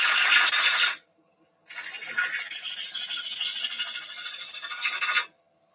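Woodturning gouge making a pull cut across the surface of a spinning wooden bowl on the lathe, a loud, steady raspy shaving sound in two passes separated by a brief pause.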